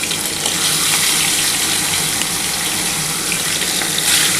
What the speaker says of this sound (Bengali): প্রথমে আমি 4 পিস ভেজে নিচ্ছি, তারপরে দেখো বন্ধুরা আরও 3 পিস বাকি থাকবে, আমি এটা তারপর ভাজবো।